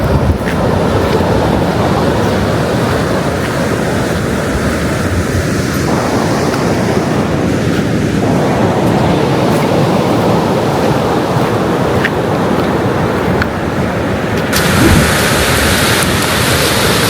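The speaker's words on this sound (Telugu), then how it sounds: "చూస్తున్నారు కదా అలలు" Pacific Ocean waves break on a beach with a stony shore, a loud, continuous roar of surf with rolling swells that stays close and steady, with no voices.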